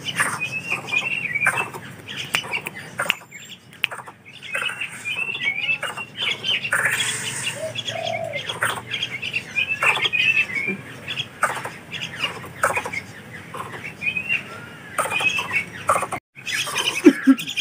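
A sooty-headed bulbul, recovered from illness and now able to fly, gives bright chirping calls and squawky notes in short repeated bursts, fairly close, with some rustling between calls.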